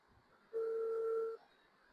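A single steady electronic telephone tone from a phone call being dialed sounds for under a second, faint against quiet background hiss.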